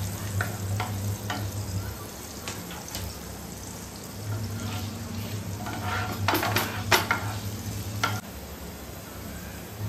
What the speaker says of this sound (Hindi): अब मैं इसके अंदर डालूंगी लहसुन। पहले इसको थोड़ा सा सॉटे कर लेंगे।